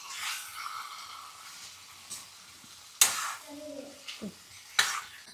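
Pieces of shark fish frying in a pan, a soft steady sizzle with brief stirring clatters from a utensil in the pan partway through.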